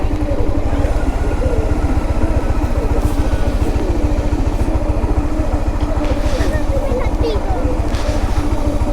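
A motorcycle engine runs steadily at a remote rural Andean market fair, a continuous close, throbbing drone throughout with faint voices and market bustle underneath.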